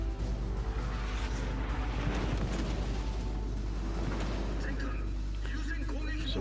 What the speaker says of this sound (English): So Iowa is being shot at by Shimanto on one side and us on the others.